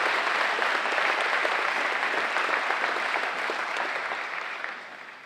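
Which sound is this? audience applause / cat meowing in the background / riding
audience applause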